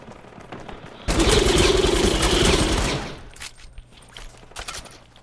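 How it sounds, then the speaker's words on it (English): A purple LMG fires a sustained burst of about two seconds in the Fortnite video game, loud and close, followed by scattered shots and faint game noise. "First weapon is a purple LMG."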